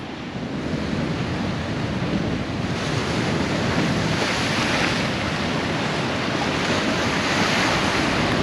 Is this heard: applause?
no